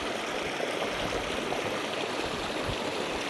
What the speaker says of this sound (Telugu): ఇది చిత్తూరు జిల్లా సంబంధించింది వాటర్ ఫాల్స్